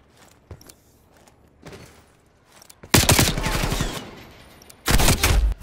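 Bursts of automatic gunfire in the video game Call of Duty Black Ops Cold War, a loud rapid volley followed by a second short burst, with softer thumps and game noise before them.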